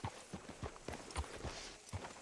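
Rhythmic clip-clop of horse hooves at a slow walk in the video game Red Dead Redemption 2, fairly close, with no talking.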